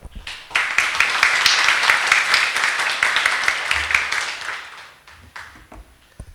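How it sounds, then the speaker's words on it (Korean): An audience claps warmly to welcome the chairman of the Paju forestry successors' association at an outdoor civic event. A dense burst of applause holds steady for a few seconds, then thins to scattered claps and fades out. "뜨거운 박수와 함께 김정대 회장님을 맞이하여 주시기 바랍니다"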